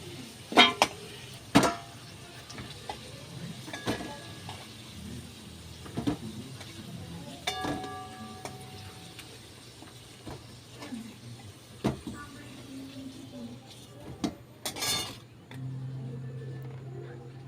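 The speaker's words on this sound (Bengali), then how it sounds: "এইবার আমি আলুগুলো তুলে নেবো" Fried potatoes being lifted out of a pan of hot oil, with scattered metal clinks and scrapes of a utensil against the pan over a low background hum.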